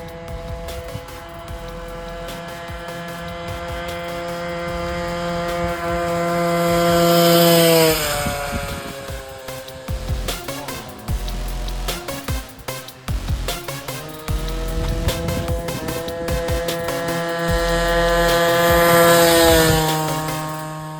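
A 1971 Peugeot 100 cc two-stroke moped engine revs and idles, its chainsaw-like buzzing pitch climbing high, dropping out, then returning with loud bursts of throttle.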